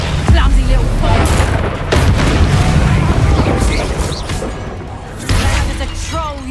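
Booming spell explosions from the Hogwarts Legacy video game, loud and dense with crashing bursts throughout, with shouted spell incantations and voices over the blasts.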